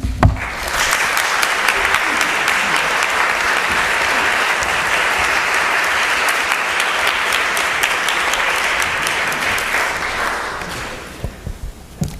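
Sustained, dense audience applause at a symposium on school inequality welcomes a speaker to the stage, holding steady for about ten seconds before thinning into a few scattered claps.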